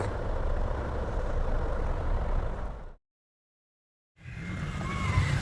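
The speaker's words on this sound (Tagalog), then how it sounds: "nag-uumpisa na dito yung traffic" Heavy road traffic with trucks rumbles steadily, a thick low engine roar from passing vehicles that cuts out completely for about a second before the traffic noise returns.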